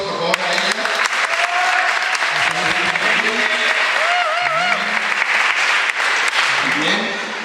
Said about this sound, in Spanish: Vamos a darles un aplauso, por favor, a ella.